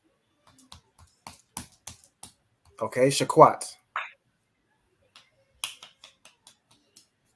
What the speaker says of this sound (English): y'all should be continuing to clap your hands